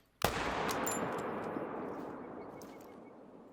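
A single loud gunshot from a rifle in the hunting video game Te Awaroa, a sharp crack followed by a long rolling echo that slowly fades over several seconds, heard alone.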